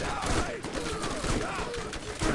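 Rapid gunfire from the shooter game Borderlands crackles in quick bursts across a short moment, mixed with a raised, agitated voice talking over it.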